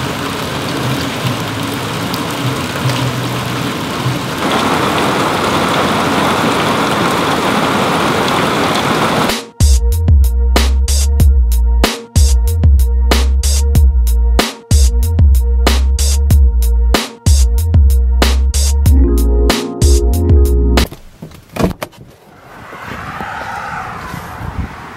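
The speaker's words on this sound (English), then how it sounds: "Got a big storm coming. Could get some good rain." Heavy storm rain hisses steadily for several seconds, then gives way to a loud, droning, engine-like rumble that cuts in and out in repeated bursts.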